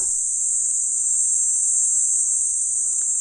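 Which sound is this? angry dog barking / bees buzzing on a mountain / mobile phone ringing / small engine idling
bees buzzing on a mountain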